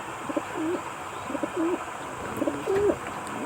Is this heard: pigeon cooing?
yes